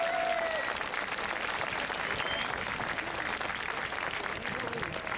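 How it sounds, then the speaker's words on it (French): A crowd at the Tour de la Manche 2014 cycling finish in Granville gives steady, sustained applause for the winner at the awards ceremony, dense clapping throughout with a faint voice over it. "je vous demande un tonnerre d'applaudissements"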